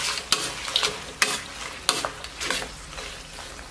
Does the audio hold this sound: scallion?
yes